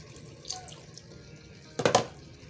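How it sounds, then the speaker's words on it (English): Water poured into a cooking pot (sufuria) while making pilau with raisins, a short splashing burst near the end after a faint earlier trickle, close and fairly soft with no talking. "we're going to add some water so that it doesn't stick to the sufuria"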